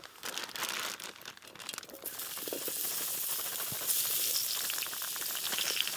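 Potatoes cooking over a campfire pit at a lake campsite in fall, a quiet steady sizzle and crackle with some crinkling rustles early on, no voices.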